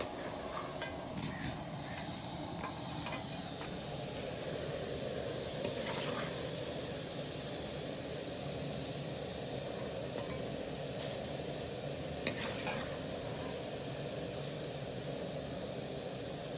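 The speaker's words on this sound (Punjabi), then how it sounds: "ਤੇ ਇਹਨੂੰ ਫਰਾਈ ਕਰਾਂਗੀ" Spiced masala frying in a pan gives off a steady, close sizzle with scattered crackles and pops that runs unbroken throughout, with no voices.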